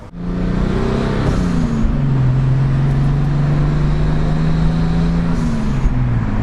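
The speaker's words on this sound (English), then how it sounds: "let's go ahead and do some driving and some drive-by test on 10 psi on the otherwise stock L28 AT" Turbocharged Datsun 280Z with an otherwise stock L28 engine running 10 psi of boost passes by, its exhaust drone rising then settling into a steady, loud, low hum that continues close and strong throughout.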